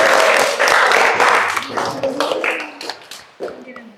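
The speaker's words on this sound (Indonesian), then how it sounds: "Sekian, guys. Tepuk tangan." A classroom group claps hands, loud and dense at first, then thinning out into scattered claps as voices talk over it.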